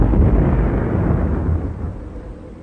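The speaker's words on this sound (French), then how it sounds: "la RAF utilise ses bombes géantes de 5 tonnes" RAF Tallboy 5-ton bombs detonate in archival wartime footage, a loud, sustained deep rumble that slowly fades, with no talking.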